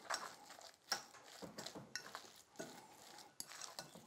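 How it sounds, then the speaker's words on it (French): A spoon stirs a fish cake mixture of salmon, egg, flour, salt and pepper in a bowl, with close, irregular scrapes and soft clinks against the dish, quiet and steady with no talk. "Et maintenant, je mélange l'ensemble."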